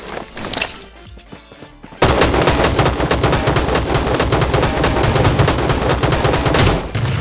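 Gunfire in the Rules of Survival video game, including a sniper: a couple of loud shots at first, then a long, dense and loud burst of rapid automatic fire that runs for several seconds with no talking.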